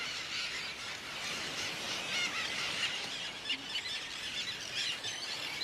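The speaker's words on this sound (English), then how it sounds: "swallows were flying and screaming all over the sky" High-pitched swallow screeches and squeals overlap continuously against a broad, hissing background, many birds calling at once from a distance by the sea.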